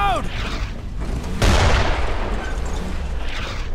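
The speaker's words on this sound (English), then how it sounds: "Mortars! Incoming!" Mortar shells exploding nearby on a wartime road, a heavy boom bursting in mid-clip over rumbling combat noise, with a shouted voice just before the blast.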